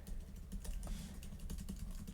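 Typing on a MacBook Neo keyboard with low, short keycaps and shallow travel: a steady run of quick, soft, muted key clicks close up, with no voices.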